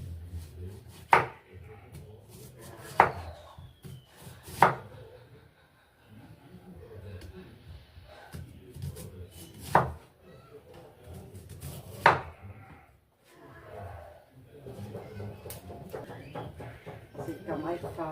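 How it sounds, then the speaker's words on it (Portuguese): Knife chopping onion on a cutting board in a home kitchen, with several sharp, spaced chops standing out over a steady background of kitchen noise and someone talking. "agora eu vou cortar a cebola"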